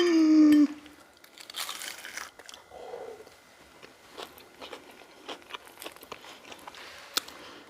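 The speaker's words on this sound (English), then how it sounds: "I want you to hear this crunch." A sharp crunch of teeth biting through crisp tempura-style crust on rotisserie chicken skin, followed by scattered crackles and crinkly chewing sounds, close and fairly quiet.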